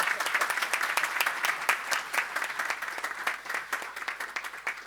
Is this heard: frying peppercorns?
no